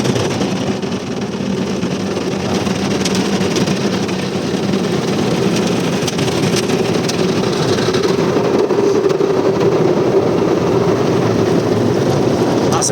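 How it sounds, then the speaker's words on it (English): Steady, loud wash of water spray and machinery surrounds a car inside an automatic car wash, a broadband roar holding for the whole stretch with no speech over it. "That's a proper wash, isn't it?"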